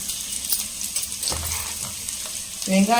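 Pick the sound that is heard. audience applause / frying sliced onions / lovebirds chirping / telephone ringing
frying sliced onions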